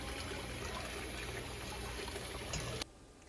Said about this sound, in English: I will rinse it in cold water.